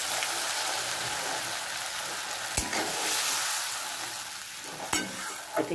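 A spice mix of turmeric, chili powder, mustard powder and salt frying in a pan for a fish curry, giving a dense, steady sizzle with a couple of sharp knocks of a utensil, close and without talk.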